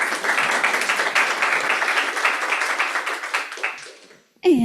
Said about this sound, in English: let's give another round of applause for Liselot.